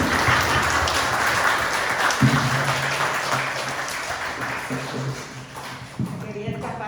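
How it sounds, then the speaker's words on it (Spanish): An audience at a church service claps for a speaker's mother. The applause is steady and fairly close, with voices talking over it throughout. "Un aplauso para mi mamá."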